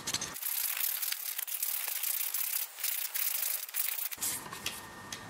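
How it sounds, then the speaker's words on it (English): Sandpaper rubs back and forth across a metal bike repair stand tube after filing off burrs, making a close, continuous rasping scratch with brief dips in the strokes. "I've got some sandpaper."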